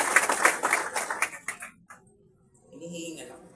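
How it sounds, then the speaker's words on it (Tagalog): Audience clapping at a seminar or networking event in the Philippines: dense, ragged hand claps fill the first second and a half, then thin out and stop as a voice starts speaking. "sige, tuloy nyo muna yung palakpak nyo"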